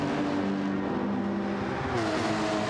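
Porsche race cars in the URL Ultimate Racing League game drag racing side by side on a straight at St Croix, with a steady, loud engine drone whose pitch climbs near the end.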